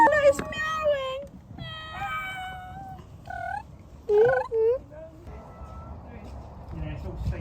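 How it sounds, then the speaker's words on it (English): A cat at Tilgate nature centre meows repeatedly in clear, tonal cries of varying pitch, fairly close and loud over a background of crowd chatter and people talking. "Oh, it's meowing."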